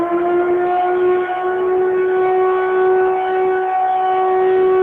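A loud wailing siren used in Caldas de Vizela to call townspeople into the street holds one steady, slightly rising tone with strong harmonics, continuous and alone without voices.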